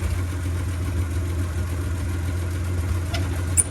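The engine of a 1967 Chevy G10 van with a three-on-the-tree manual, running just after starting. It holds a steady, rough, low idle with faint knocking, close and continuous, with no talk.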